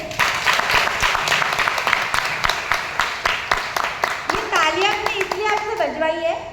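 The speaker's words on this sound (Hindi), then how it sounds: "आप सभी लोगों के लिए एक बार खुद जोरदार तालियां बजाइए" Trainees at a Keysoul product training program in Bhavnagar clap loudly for themselves, a strong rhythmic burst of many hands that fades out as a voice begins speaking near the end.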